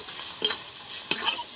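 Two quick scraping stirs of chicken with cumin powder, red chilli and spices in a frying pan, each a short sizzling swish over a quiet background.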